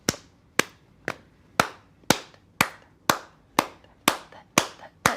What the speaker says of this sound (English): Kompang is all about interlocking rhythms